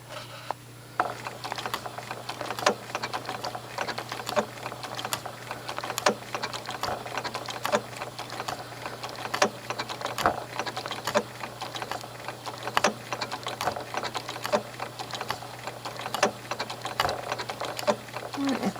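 Sewing machine stitching binding onto a quilt, a steady fast mechanical chatter with a faint needle tick, running continuously at close range with a constant low hum underneath.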